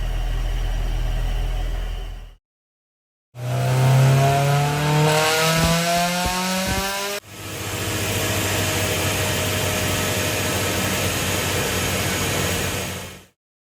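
Honda S2000 engine with a new OEM short block cranks and fires, revs briefly, then settles into a steady idle, loud and close with no talking.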